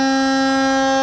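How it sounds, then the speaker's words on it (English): Loud, sustained air horn on a 2022 Newmar Super Star 4059 RV, a single steady multi-tone blast held for the full second with no voices. "air horn."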